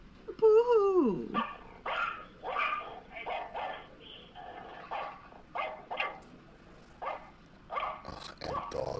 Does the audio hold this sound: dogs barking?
yes